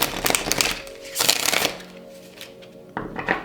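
Tarot cards being shuffled by hand in close bursts of riffling and flicking, with short pauses between shuffles and no talking.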